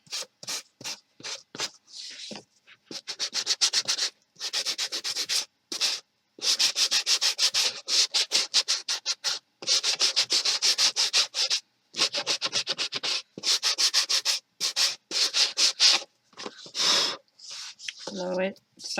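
Rhythmic rasping strokes sanding the paper edges of a handmade notebook, close and fairly loud, in repeated bursts separated by short pauses, with a brief voice near the end.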